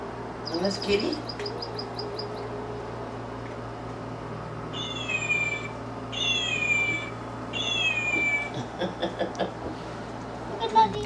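A toy gives a few high, synthetic meows in separate bursts, with short chirpy squeaks and a voice speaking briefly around them.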